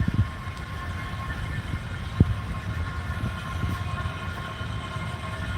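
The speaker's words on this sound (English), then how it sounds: "You see both trains coming through." An HO scale model train rumbles along steadily with light clattering wheels and a faint mechanical hum, one sharp click partway through.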